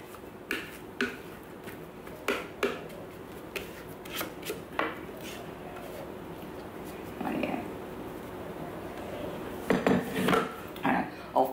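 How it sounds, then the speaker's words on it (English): Cake batter being scraped from a Thermomix bowl, with scattered close clinks and scrapes of a spatula against the metal bowl, irregular and fairly quiet in a home kitchen. "I'll finish scraping that out and I'll pop this in the oven."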